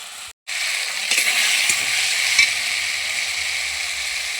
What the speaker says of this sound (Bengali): মশলাটা অল্প অল্প জল দিয়ে ভালো করে কষিয়ে নেব